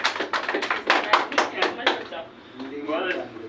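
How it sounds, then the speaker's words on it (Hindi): Students in a food safety class give their teacher a short burst of quick, fairly close hand claps that fade after a couple of seconds, followed by a voice talking. "मैडम के लिए तालियां बजाओ"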